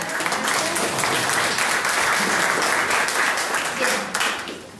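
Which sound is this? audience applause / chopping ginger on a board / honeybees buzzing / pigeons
audience applause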